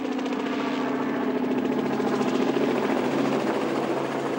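A helicopter arrives in a steady, loud rotor and engine drone with a constant pulsing throb, close by and filling the whole clip without speech.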